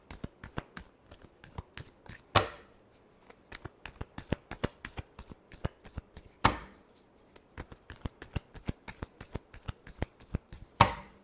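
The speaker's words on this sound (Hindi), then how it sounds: "Last shuffle." Tarot cards being shuffled by hand, a rapid run of crisp riffling clicks broken by three louder slaps as the deck is squared, close and fairly quiet with no talking.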